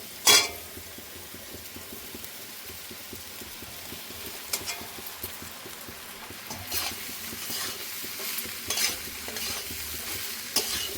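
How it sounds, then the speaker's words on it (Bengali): Poha, flattened rice, tossed and fried in a pan with turmeric, a soft close sizzle under repeated scraping stirs and occasional clinks of a utensil against the pan. "দিয়ে দিচ্ছি চিড়েগুলো।"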